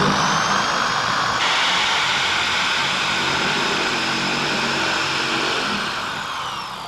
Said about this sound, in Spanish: Ahora vamos a hacer el agujero que traspase hasta la otra tabla y luego meteremos el tornillo.